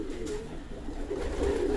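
Pigeons coo softly in a loft, low throaty calls repeating under a light background murmur, close and steady.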